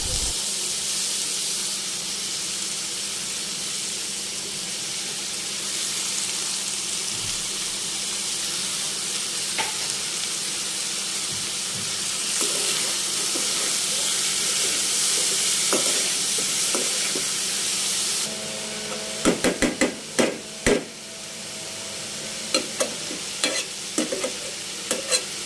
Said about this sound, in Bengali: একটু হলুদ গুঁড়ো দিয়ে আমি হালকা করে একটু ভেজে নিব